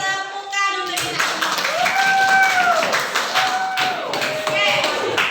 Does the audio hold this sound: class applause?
yes